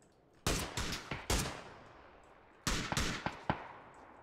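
Gunfire in the battle-royale game PUBG: a loud burst of several rapid shots, a pause, then another close burst of sharp reports with short echoing tails.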